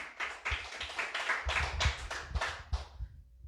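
A church congregation claps loudly for the Lord during a sermon service, with quick, fairly regular close claps for about three seconds before they stop.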